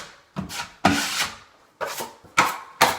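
A drywall knife spreads joint compound over screw heads on new drywall, giving close, raspy scraping strokes in several short, rhythmic passes.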